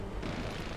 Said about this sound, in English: That explosion just shorted out half our systems.